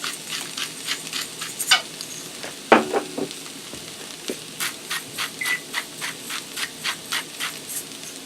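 Spinach cooking with onions and garlic in a pan, seasoned with salt and pepper for a pesto lasagna filling: steady crackling sizzle with regular stirring scrapes and taps close by.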